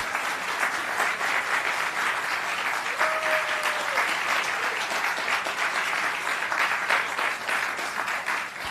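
Audience at an annual memorial gala claps steadily for several seconds, dense even applause from a large crowd filling the room with little talk.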